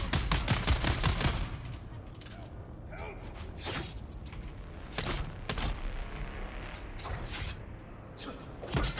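Semi-automatic gunfire in Dune: Awakening, a rapid volley of loud shots opening the moment, then scattered single cracks and bursts with mechanical clatter and game ambience behind.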